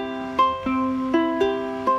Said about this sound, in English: This is what the swing eighth note sounds like with Travis picking.